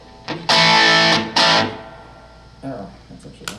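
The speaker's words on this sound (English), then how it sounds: "thank God for the MXR distortion pedal" An electric guitar played through an MXR distortion pedal rings out in two loud, sustained, fuzzy chords, followed by a few quieter picked notes that trail off.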